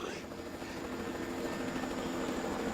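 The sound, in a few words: helicopter flying away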